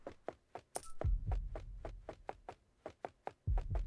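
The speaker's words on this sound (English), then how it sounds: "we're starting to hear like a heartbeat" Deep, muffled heartbeat from a boss in a Roblox World // Zero dungeon, a steady paired lub-dub pulse about twice per second under a low background rumble, with no talking.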